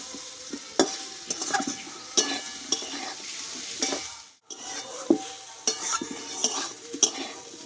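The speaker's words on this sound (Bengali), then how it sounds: "আমি আরও কিছুক্ষণ ভালোভাবে একটু কষিয়ে নেব এটা কাঁচা কাঁচা গন্ধটা চলে যায়" Green jackfruit being stir-fried in a wok: a continuous sizzle broken by frequent metal spatula scrapes and clinks against the pan, close and alone without talk.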